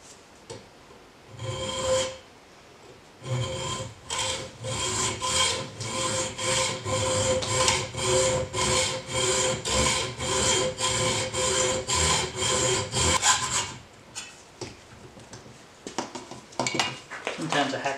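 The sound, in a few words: hacksaw cutting metal stock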